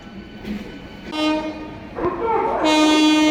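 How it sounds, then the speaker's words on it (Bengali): A train horn blares in long harmonic blasts over the rumble of a train rolling into a station, loud and close. "ওই যে আমাদের ট্রেন ঢুকছে।"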